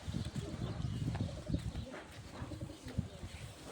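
Pigeons or doves coo softly at a bird loft, giving low repeated calls over a noisy background with faint rustling.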